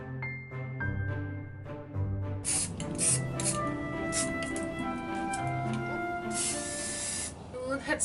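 Spray paint can with a fancy nozzle hissing in short bursts and longer sprays while decorating kawaii room decor, a soft, close hiss repeating irregularly with faint voice and handling sounds.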